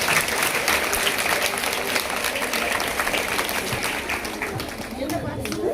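Audience applause for a young girl student at a government girls' higher secondary school education development day celebration in Vandavasi, steady and dense clapping from a large crowd throughout, with faint chatter mixed in.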